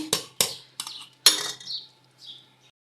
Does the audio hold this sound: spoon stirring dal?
yes